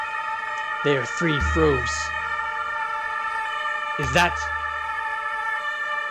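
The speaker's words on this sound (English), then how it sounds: "he heard sirens. And not just any sirens." Police sirens wail in the Cross The Moon video game, rising pitched sweeps repeating near 1 and 4 seconds over a steady tonal backdrop, with a voice speaking over them.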